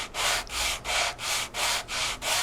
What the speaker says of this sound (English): I'm going to grip it pretty tight, and then I'm going to run it on some 220 sandpaper